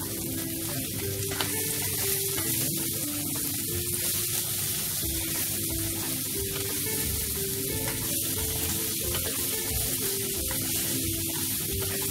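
Okra sizzles loudly and continuously in a hot pan for a home-style sautéed vegetable dish with sardines, a dense, steady frying hiss with faint crackles and no voices.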